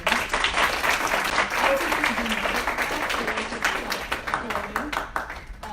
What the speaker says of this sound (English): I want to have a very loud round of applause for the two faculty members